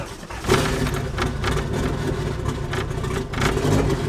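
A turbocharged Honda car engine turns over, catches and revs, giving a loud, close, rough roar that swells and dips and surges again near the end.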